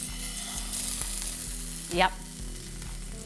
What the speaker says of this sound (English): we're going to pop the fish in now and gently place it away from us in the pan, skin side down, and you should hear a nice sizzle from the pan